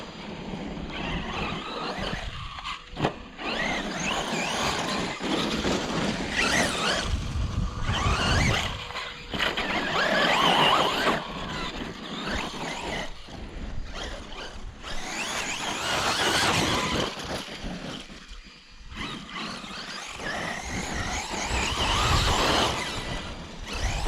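A Traxxas E-Revo 2.0 RC truck tears around a gravel pit, its electric motor whining and tires crunching in repeated surging bursts, near and loud with brief lulls between runs.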